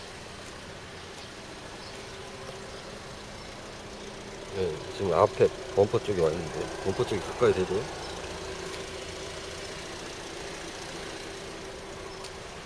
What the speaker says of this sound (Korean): 자, 엔진 소리 들어보세요.